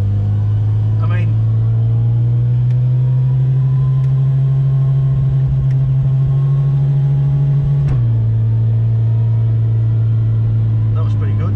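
Rotary 13B-engined car with billet rotor housings cruising on the street, its steady droning engine note holding evenly, then dropping slightly in pitch, with someone talking over it.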